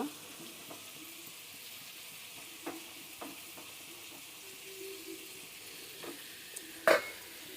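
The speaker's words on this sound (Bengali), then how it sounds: "এবার একটু ভালো করে নাড়াচাড়া করে নেব" Chopped onion and garlic fry softly in a pan with a faint, steady sizzle, broken by a few light spatula knocks and one sharper scrape near the end.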